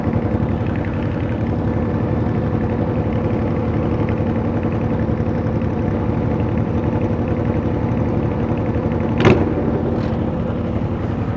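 A motorcycle engine idles steadily and loudly up close with an even, continuous rumble, broken once near the end by a brief sharp click.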